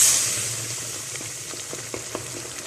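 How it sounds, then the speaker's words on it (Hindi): Minced meat (keema) fries in oil inside a clay pot, giving a steady close sizzle with a few soft stirring scrapes and light crackles, no voices. "कीमा हमारा अच्छे से भुन रहा है।"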